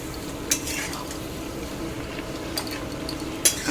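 Chicken sautéing for chicken kosha, a steady dense sizzle with a few clinks and scrapes of a spatula stirring in the pan, close and even, no talk.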